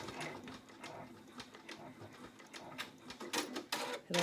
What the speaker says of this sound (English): It'll tack them down, both pockets, and then do the next placement stitch.